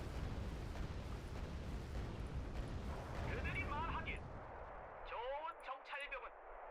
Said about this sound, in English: We got mortars coming in, but where from?